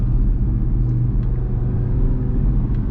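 Audi RS3 exhaust and engine rumbling steadily while driving slowly along a road, a deep continuous low drone heard close from inside the car with no talking.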